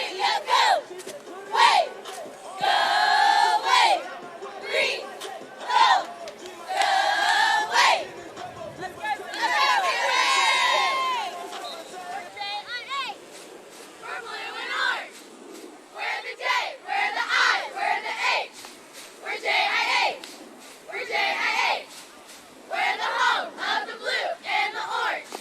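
Crowd at a Friday night high school football rivalry game between James Island and Summerville, cheering and shouting in loud repeated bursts, with dense chatter and babble filling the gaps throughout.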